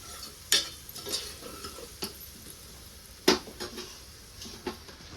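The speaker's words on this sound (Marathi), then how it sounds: "हळद छान अशी मिक्स करून घ्यायचे तेलामध्ये" Turmeric being stirred into masala paste frying in oil for a vajdi dish, heard as sharp scattered scrapes and taps of a spoon against the pan over a soft low sizzle, with no talking.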